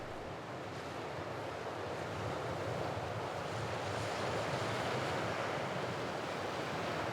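Sea surf along the Corsican shoreline, a continuous wash of breaking waves mixed with wind rumble, steady and fairly soft with no voices.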